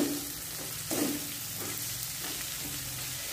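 Finely sliced cabbage fries in a pan for noodles, giving a steady sizzling hiss with a brief louder burst and soft stirring scrapes, close and without talk.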